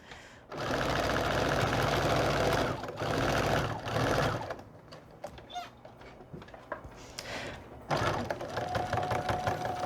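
A sewing machine stitches a seam on a cat quilt block in a fast, steady whir, pausing briefly twice and then giving way to scattered clicks and fabric handling before a final short run.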